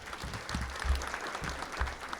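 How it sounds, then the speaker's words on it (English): An audience at a chamber of commerce business breakfast applauding, a short burst of clapping from a moderate-sized crowd in a room, with a voice briefly audible over it. "Give yourselves a round of applause"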